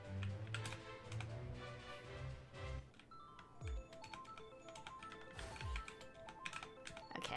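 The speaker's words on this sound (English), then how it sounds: "I know you guys are hearing a bunch of keyboard smacking" Computer keyboard keys are struck rapidly and irregularly during a Maplestory gaming session, quiet clicks and taps alongside game sounds and faint background music.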